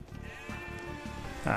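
A couple of sheep bleat, one short cry early and a louder, brighter bleat near the end, over a steady low game-like background hum.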